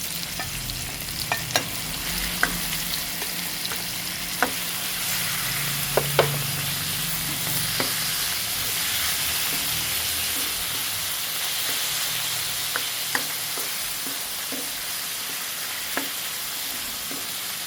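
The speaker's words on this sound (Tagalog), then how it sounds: "Gisa-gisa lang." Marinated chicken breast with soy sauce and pepper sizzles steadily in a pan, a constant frying hiss broken by occasional sharp clicks of stirring, with no talk.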